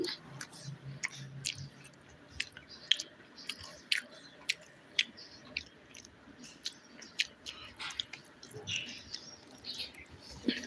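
Someone eats fried tuna, with close, crisp chewing and biting crunches at an irregular pace over a quiet room background. No one speaks.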